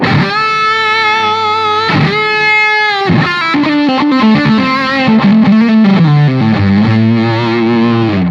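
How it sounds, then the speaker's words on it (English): A heavily distorted, fuzzy electric guitar through a homemade fuzz pedal built with a pyrite diode plays loud chords and then a gritty single-note riff, thick and buzzing, with no voices. "let's hear what this actually sounds like"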